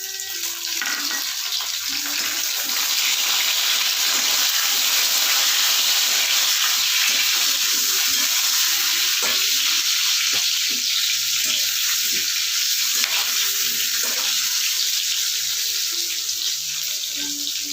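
Tomato pieces sizzle and fry in hot oil in a pan for a fish curry, a loud, constant crackling hiss with brief spatters, close up and without speech.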